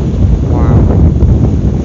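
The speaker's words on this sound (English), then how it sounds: "This is like so calming to study here, listening in to these waves." Sea waves on the beach at Cleveleys with strong wind, heard as loud, steady buffeting wind noise on the microphone over a low surf wash.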